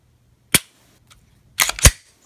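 An FN 509 pistol trigger gives a sharp single click, then after a pause two more quick clicks close together, crisp and near in a quiet room.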